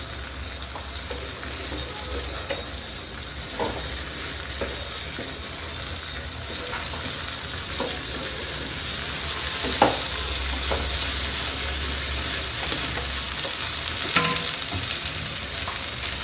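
Okra and potato frying in a pan keep up a continuous sizzle, with repeated scraping and clatter from stirring throughout and a couple of sharper knocks against the pan.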